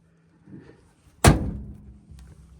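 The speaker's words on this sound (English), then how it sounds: "We'll start with the door closing." A 1953 Chevy Bel-Air door slams shut once with a heavy, solid thunk, close and loud, after a brief faint rustle, then fades into quiet.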